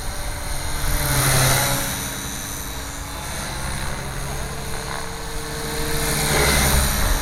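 A Gaui 550 RC helicopter flies close by with a steady whirring rotor and motor whine. The tone swells and eases gently as it holds its hover.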